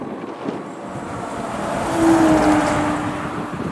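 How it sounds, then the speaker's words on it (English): A livestock cattle float truck goes by on the wind-swept A75, a steady whooshing road roar that swells to a peak midway and then eases, with wind noise throughout and no talk. "looks like one of McWilliam's cattle floats, I think, from Port William"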